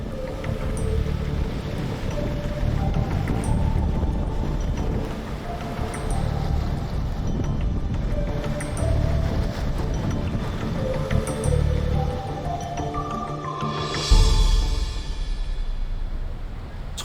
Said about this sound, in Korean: 심상치 않은 바람이 붑니다